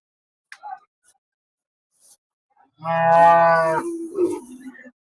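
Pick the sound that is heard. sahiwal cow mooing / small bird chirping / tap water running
sahiwal cow mooing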